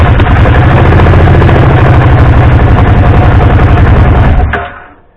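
The engine of a 2014 Kawasaki Brute Force 750 (KVF 750) ATV runs loud and close at an even, throbbing idle for several seconds, then dies away and fades out.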